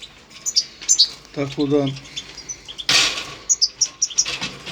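Hand-fed pet birds at a feeder give sharp, close chirps and tweets with brief bursts of wing flapping, while a person speaks briefly in between.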